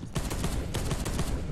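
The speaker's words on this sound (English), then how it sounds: "Destroy the targets with your storm bolter." Rapid storm bolter fire in Space Hulk Deathwing, a dense rattling fusillade of repeated heavy shots sustained for over a second, loud and close with no talking.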